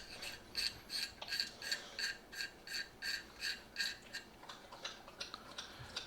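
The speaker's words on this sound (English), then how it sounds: "take your barrel nut, slide it all the way, and tighten that down" An AR-15 barrel nut being tightened by hand gives a quiet, evenly spaced series of small metallic ticks and rasps, like a ratchet clicking, with no voices.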